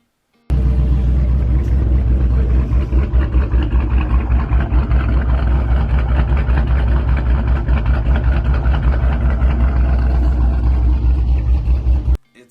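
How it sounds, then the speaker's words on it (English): A 2018 Dodge Charger R/T fires up from a cold start, then settles into a loud, steady, deep exhaust rumble that holds close and unbroken for about twelve seconds before cutting off. "You can hear a cold start on it"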